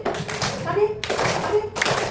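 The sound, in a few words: children clapping hands in a classroom game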